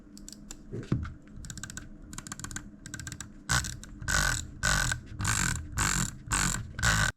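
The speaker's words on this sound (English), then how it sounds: "for those of you who wanna hear like the click sound, here's the sound test" A Glorious Model I computer mouse clicks in rapid clusters, light at first, then louder and fuller bursts. The clicking is close up and there's no speech.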